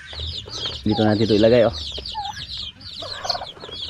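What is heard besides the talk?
chicks and turkeys on a farm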